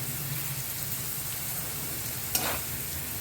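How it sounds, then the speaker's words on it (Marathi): Potatoes and green chilies sautéing in a pan for fasting khichdi, a soft steady sizzle with one brief louder scrape partway through. "कसं मिरच्या आणि बटाटा सारखा परतला जातो आणि चांगला शिजला जातो"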